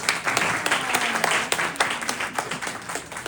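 Crowd applause at a live Earn Your Leisure event in Greenburgh, steady dense clapping from many hands at moderate distance, filling the moment without voices over it.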